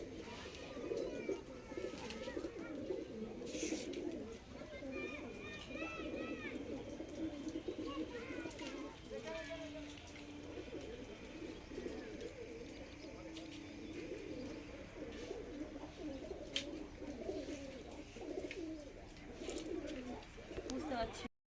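Pet pigeons after their bath coo softly in a low, rolling murmur under steady background noise and room ambience, with faint chirps and occasional clatter, while a person talks nearby.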